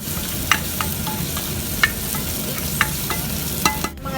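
Ginger and garlic sauté in a hot pan with an even sizzle throughout. A spatula taps and scrapes the pan now and then at close range, and no one speaks.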